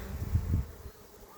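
Honeybees buzzing around a hive being remodeled, a low, close hum that swells briefly and then fades to a faint drone, with no talking.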